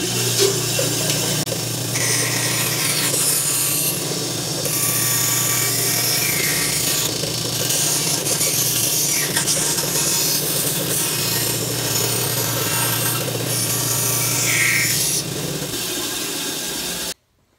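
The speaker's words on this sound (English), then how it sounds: "When I get ready to cut this line, I want to make sure that I stay slightly to the outside of the line" A hand saw cuts steadily along a marked line through a wooden bowl blank, a continuous rasping rub that is close and fairly loud throughout, with no talking.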